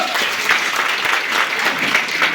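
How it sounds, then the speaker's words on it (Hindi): Loud, dense audience applause fills a hall for a speaker honoured at a business recognition event, a continuous roar of many clapping hands close by. "एक बार जोरदार तालियां"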